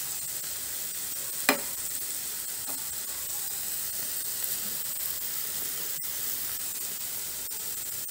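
Unsweetened milk khoa is stirred into carrot halwa in a hot pan, with a steady close sizzle and hiss and an occasional sharp scrape of the spoon.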